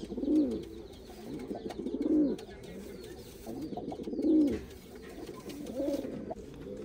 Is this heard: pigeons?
yes